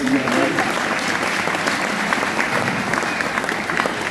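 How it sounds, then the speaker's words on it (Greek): An audience at the RED music stage in Nicosia applauds, a full, continuous burst of many hands clapping with a few cheers and voices mixed in, steady throughout. "Ένα χειροκρότημα στους φίλους μας, παρακαλώ."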